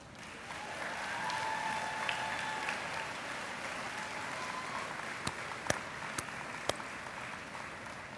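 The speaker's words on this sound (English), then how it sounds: "I'd like to have the graduates give a round of applause to all the faculty here tonight" A hall full of graduates at a spring university commencement applauds the faculty in a sustained, even wash of clapping, with a few sharp louder claps standing out near the end.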